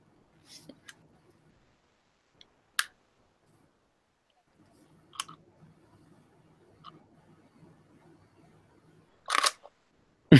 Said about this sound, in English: I completely forgot how like savage that shutter is.